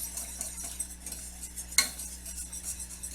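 A whisk works lumps out of liquid in a pan for a chicken shepherd's pie, with quiet close scraping and swishing, a low hum underneath, and one brief sharp clink partway through.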